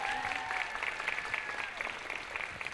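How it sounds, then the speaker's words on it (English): Audience applause for the staff at a school concert, a steady wash of many hands clapping throughout at moderate, fairly distant level in a hall. "Can you please give them another round of applause?"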